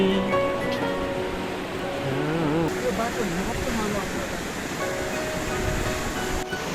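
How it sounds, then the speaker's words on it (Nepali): A glacier-fed mountain river from Phoksundo beside a trekking trail in Dolpa, Nepal, a continuous broadband rush of flowing water nearby, steady throughout, with voices talking over it. "अब हाम्रो छेउमा चाहिँ यो सेफुक सुन्दरबाट आएको खोला"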